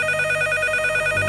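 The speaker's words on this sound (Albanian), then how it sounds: "papritur më ra telefoni" A telephone rings steadily in a quiet pizza shop at night, its bright electronic tone repeating evenly and fairly loud throughout, with no voices.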